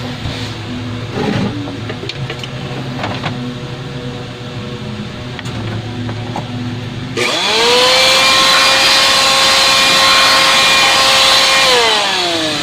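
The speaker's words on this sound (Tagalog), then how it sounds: "medyo maalikabok siya. I-blower natin." Quiet handling noises and clicks give way to a loud electric blower whirring up to a high, steady whine, then starting to wind down, blowing dust off an electric fan under repair.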